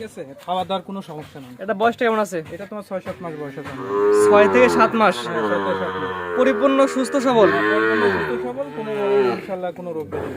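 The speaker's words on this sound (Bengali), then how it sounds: "সিরিয়াল নাম্বার ছয় একটা গরু নিয়ে আসেন" Indian Sahiwal cattle on a farm giving long, loud, drawn-out moos close by, several calls in succession, with people's voices mixed in.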